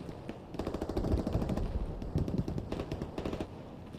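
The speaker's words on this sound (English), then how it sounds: "Sounds like enemy fire come from over here." Enemy gunfire in the World War II shooter Hell Let Loose crackles in rapid bursts of rattling shots at a moderate distance, steady for several seconds.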